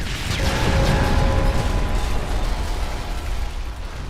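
Explosions in the video game Modern Warfare 2 produce a dense, continuous rumbling roar of blasts and debris, loud and sustained with no speech.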